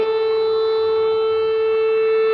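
A new Polish civil defense siren sounds a steady, loud sustained tone without breaks, filling the whole short stretch.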